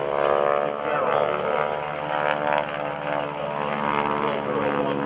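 A Stearman biplane at a military base open house airshow flies a barrel roll, its radial engine giving a loud, steady, throaty drone with rich harmonics and slight rises and dips as it maneuvers.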